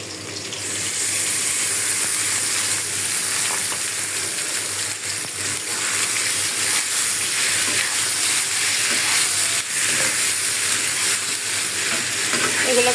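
Spice-coated small river fish such as chanda and mola frying in oil in a pan, a loud steady broadband sizzle running continuously throughout with no talk.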